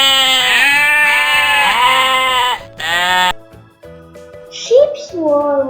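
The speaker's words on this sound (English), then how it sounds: "Sheep." Sheep bleat loudly and close by in a couple of long, quavering calls, followed after a brief pause by shorter bleats against a soft musical background.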